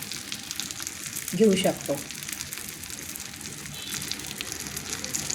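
Stuffed green chillies frying in a pan make a steady, close sizzling hiss that runs throughout, with someone speaking briefly over it.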